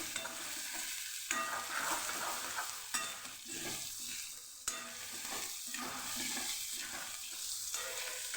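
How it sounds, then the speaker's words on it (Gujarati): Onions sautéed in a pan for a ratlami sev and tomato curry, a hissing sizzle repeatedly cut by sharp spatula scrapes and clunks as they are stirred, close and steady. "ડુંગળી એકદમ સરસ સોફ્ટ થાય એટલે કે ડુંગળી પોચી થાય ને ત્યાં સુધી આપણાને સાતળવાનું છે"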